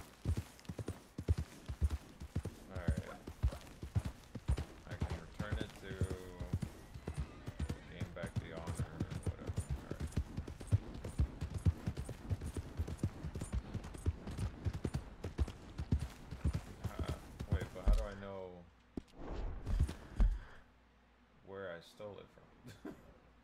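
Rapid clip-clop of a horse's hooves in a video game, steady and fairly loud for most of the stretch, with a person talking over it before the hoofbeats drop away near the end.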